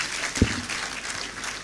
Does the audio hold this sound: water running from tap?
no